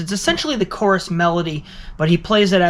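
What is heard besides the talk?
No everyday noise stands out behind the speech.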